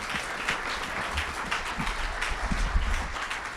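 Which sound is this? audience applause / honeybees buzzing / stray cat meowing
audience applause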